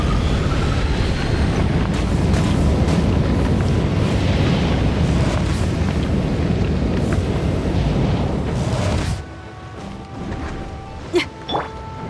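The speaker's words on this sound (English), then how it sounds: "Pyrotechnics." Fireworks in the Genshin Impact video game: a dense, loud roar of bursts and crackles for about nine seconds, then it drops to quieter scattered pops.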